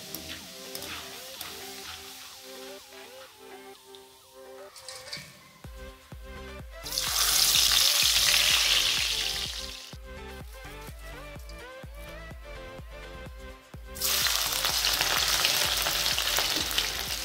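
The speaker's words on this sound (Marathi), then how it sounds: "या डाळव्याला सुद्धा आपल्याला थोडं हलकसं तळून घ्यायचं आहे।" Roasted gram dal frying in hot oil for a crispy chivda snack, a loud steady sizzle with stirring clatter, swelling into two strong bursts of crackling as the dal hits the oil.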